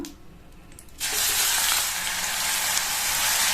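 Two medium onions, coarsely ground, hit hot oil with curry leaves for a capsicum curry, and a sudden loud sizzle bursts up and holds steady.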